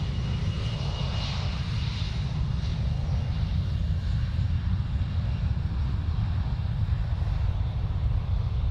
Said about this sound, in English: And there goes the SAS CRJ 900, or SAS, Scandinavian Airlines.